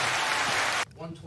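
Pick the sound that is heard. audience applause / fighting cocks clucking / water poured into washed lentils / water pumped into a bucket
audience applause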